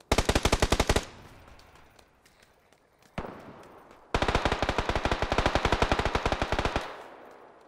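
Two long bursts of M249 light machine gun fire in PUBG, loud and rapid, separated by a quieter gap with a single shot and faint tail, the second burst running about three seconds.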